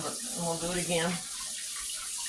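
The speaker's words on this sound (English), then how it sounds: "I'm gonna rinse these peppers." Tap water runs steadily while peppers are rinsed at a kitchen sink, a broad hiss that continues throughout, with a person talking over it.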